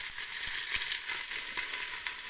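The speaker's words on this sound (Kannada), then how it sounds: "ಇದಕ್ಕೆ ಸಣ್ಣಗೆ ಹೆಚ್ಚಿರ್ತಕ್ಕಂಥ ಕರ್ಬೇವಿನ ಸೊಪ್ಪು ಮತ್ತು ಈರುಳ್ಳಿನ ಒಗ್ಗರಣೆಗೆ ಹಾಕ್ತಾಯಿದ್ದೀನಿ" Finely chopped curry leaves and onion dropped into hot oil, a continuous bright crackling sizzle, close and steady, with faint stirring taps and no talking.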